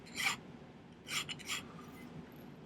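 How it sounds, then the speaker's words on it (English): Filing a silver tube flat for a silversmithing cage pendant gives three short, close rasping strokes of a metal file in quick succession, fairly quiet, with no talk. "The reason I'm filing this sort of flat"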